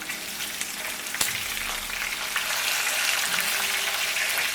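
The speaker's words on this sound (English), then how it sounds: "we're going to cook them on each side for about 4 to 8 minutes" Lamb chops fry in a hot pan for rosemary mint lamb chops, giving a steady close sizzle with light crackle throughout and one sharp tap early on.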